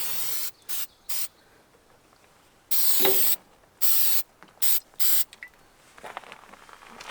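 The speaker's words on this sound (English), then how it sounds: "I'm just spraying this with fluid film protectant" Several short bursts of Fluid Film protectant aerosol hissing, close by, separated by brief pauses, with faint mechanical clicks in between.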